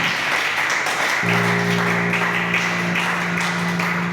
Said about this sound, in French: Acclamez très fort pour le Seigneur Jésus-Christ